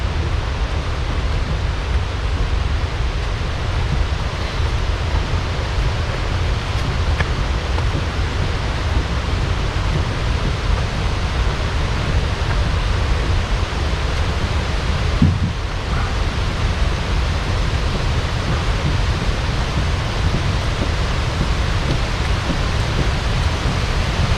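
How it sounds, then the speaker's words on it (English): A large waterfall rushes in a steady, dense roar on a backcountry canoe route in Algonquin, loud and close throughout with no pauses and no voices. "Sounds like I'm coming up in the big part of the waterfall now."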